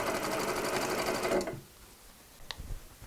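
A sewing machine stitching fabric pieces right side to wrong side runs in a loud, steady, close whir for about a second and a half, then stops, leaving a few faint clicks and handling sounds.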